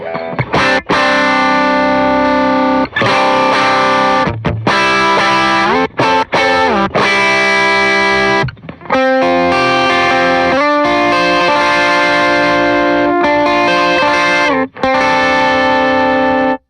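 Loud electric guitar through a Benson Germanium Boost and Expandora fuzz pedal, playing sustained chords and riffs, thick and saturated, with brief pauses between phrases and no talking.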